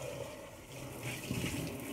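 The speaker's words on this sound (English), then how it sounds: "Very important to pour the water out" Dirty water is poured out of a dishwasher as a steady, low rushing splash that swells slightly partway through, continuous and fairly quiet.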